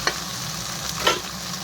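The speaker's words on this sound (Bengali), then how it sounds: "এখন এগুলো ভালো করে ভেজে নেবো, ভালো করে ভেজে সিদ্ধ মতো করে দিয়ে ভালো করে তেলের উপরে" Noodles frying in hot oil: a continuous close sizzle with a couple of brief stirring scrapes, no voices.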